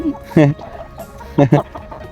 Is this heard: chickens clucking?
yes